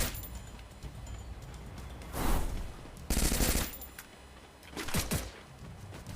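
Bursts of gunfire in the Free Fire battle-royale video game, three loud volleys spaced a second or two apart over a steady background of game noise.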